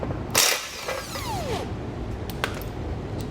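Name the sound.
13mm socket ratchet removing a bolt on a Tesla Model Y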